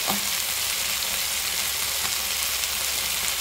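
Carrots for lumpiang tauge sizzle and fry steadily in a hot pan, with a constant close crackle and occasional stirring and no voices.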